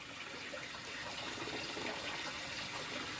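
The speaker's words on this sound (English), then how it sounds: "we're starting to get some water to come up the top there" Water rises and trickles up through a pond's solid filter, a faint, steady gurgling and splashing flow with no speech.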